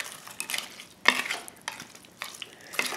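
Peeled, deveined shrimp are stirred into jambalaya in a slow cooker, a few close, uneven wet scrapes and clinks of a spoon against the pot over a quiet background, no voices.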